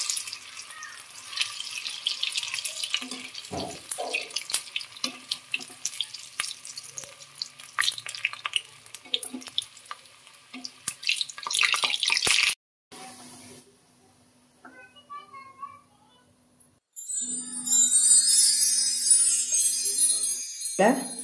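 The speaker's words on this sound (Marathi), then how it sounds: "आता सर्व तळून घेऊयात." Coriander fritters (kothimbir vadi) fry in hot oil, with close crackling, spitting pops and scrapes for about twelve seconds, then near silence, before a bright, steady hiss rises near the end.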